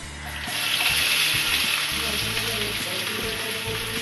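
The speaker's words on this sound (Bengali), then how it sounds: "এবার এটার মধ্যে আমি পেঁয়াজ কুচিগুলো দিয়ে দিচ্ছি।" Chopped onions hit a hot pan for a Bengali aar fish curry. A loud, steady frying sizzle rises within half a second and keeps going without a break.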